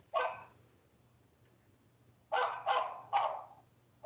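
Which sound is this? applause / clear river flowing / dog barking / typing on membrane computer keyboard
dog barking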